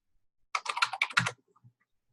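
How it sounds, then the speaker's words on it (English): Quick burst of typing on a computer keyboard, a short run of close, crisp key clicks lasting under a second amid near silence. "I'm going to type some stuff in here"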